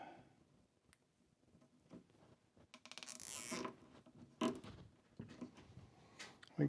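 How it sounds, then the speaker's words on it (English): A plastic zip tie is ratcheted tight around a rubber hose on a lapidary trim saw, giving a quick, close zipping rattle in the middle amid soft handling and rustling noises. "Put the hose on, with zip tie on it."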